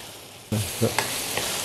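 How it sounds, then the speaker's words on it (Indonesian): Minced meat frying in a pan as the first step of a cottage pie: a loud, steady sizzle starts abruptly, with a few stirring scrapes and clicks over it. "ini dagingnya kita goreng dulu ya"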